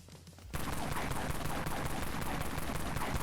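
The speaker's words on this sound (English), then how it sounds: "Here's the XAK again. And the AR-9 Silvertide." AR-9 Silvertide automatic rifle fire in the Dead Frontier video game, a sustained dense burst of rapid shots starting abruptly after a brief pause, loud and continuous to the end.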